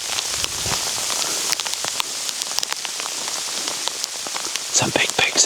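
Heavy rain pounds down steadily during a wild boar hunt in Turkey, a dense hiss of drops striking surfaces close by, with sharper splatters scattered throughout and a brief burst of louder impacts near the end.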